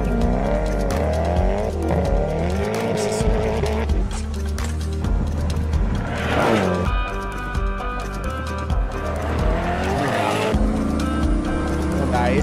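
Koenigsegg hypercar driving hard with tires squealing and skidding, engine note rising and falling in sweeps, loud and close, with music and someone talking over it.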